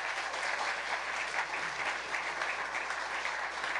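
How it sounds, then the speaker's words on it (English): Warm audience applause for the speakers at a live public astronomy talk, a steady, fairly soft wash of many hands clapping with no voices over it. "So if you'll give our speakers a nice warm round of applause."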